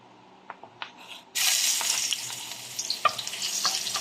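Ginger tossed into hot oil in a wok bursts into a loud, close sizzle after a few faint taps, then keeps hissing steadily with scattered pops.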